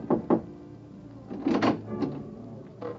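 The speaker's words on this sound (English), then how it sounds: "you rub your knuckles against a door marked 4" Knuckles knock and rub against a door in an old radio drama, giving several dull wooden raps and scrapes in uneven bursts, close and fairly loud, with no talk over them.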